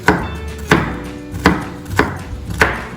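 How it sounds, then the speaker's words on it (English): Knife chopping green beans on a cutting board, five sharp, evenly spaced chops close up with brief pauses between, no talking. "we can move on to chopping off the beans"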